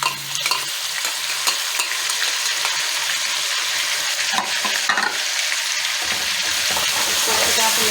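Onion-tomato paste sizzling with mutton in a pan for palak gosht, a loud, steady frying hiss with scraping stirring strokes throughout and brief louder bursts, no speech.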